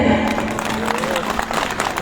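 An audience at an association gathering applauds, a dense, even wash of clapping that holds steadily through a couple of seconds, with a voice faintly mixed in.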